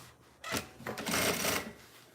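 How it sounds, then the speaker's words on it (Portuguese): Sewing machine running a short burst of stitching along a seam on a pouch, a close rapid whirring rattle lasting about a second. "E passo a costura também desse lado"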